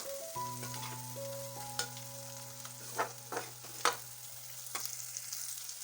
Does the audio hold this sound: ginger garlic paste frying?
yes